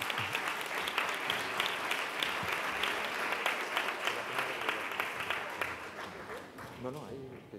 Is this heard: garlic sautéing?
no